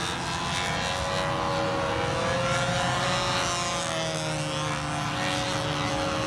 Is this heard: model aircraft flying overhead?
yes